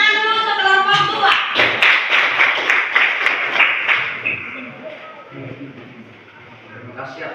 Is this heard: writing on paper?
no